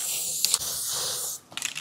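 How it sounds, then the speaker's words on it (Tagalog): Black spray paint hisses steadily from an aerosol can at close range, with a couple of rattling clicks, a brief pause, then another short burst. "sprayan na lang natin wow ang ganda ng itim"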